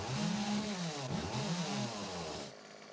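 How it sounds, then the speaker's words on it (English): A chainsaw in the survival video game 7 Days to Die buzzes steadily with a warbling, revving engine tone for about two and a half seconds, moderately loud and alone, then cuts off. "We'll get the chainsaw out for that."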